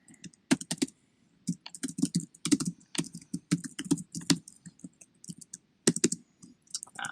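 Rapid bursts of computer keyboard typing while writing a reply to an eBay dropshipping customer case, irregular clusters of crisp key clicks with brief pauses, close and alone.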